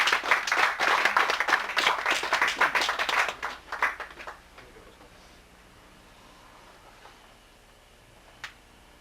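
Crowd applause welcoming a speaker at a Buddhist dharma hall service, a dense burst of clapping for about four seconds that thins out and fades, followed by quiet room tone and a single faint tap.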